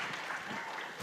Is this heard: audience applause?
yes